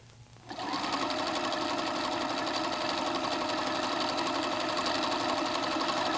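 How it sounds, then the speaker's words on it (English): A White 9800 sewing machine starts up after a brief quiet moment and runs steadily, its motor whirring and needle clattering in a fast even rhythm while stitching a word in script mode. "let's sew that word white so you can see how easy that was"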